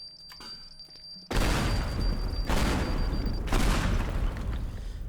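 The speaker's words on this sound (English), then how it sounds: "And now we need to go through that wall. And the way we're doing that is by using a bomb." A bomb blasts a hole through a wall in the Teardown video game: a sudden loud explosion after a quiet lead-in, followed by a sustained crackling roar with a second burst, no talking.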